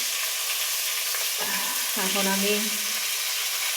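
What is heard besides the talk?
tilapia fish frying in oil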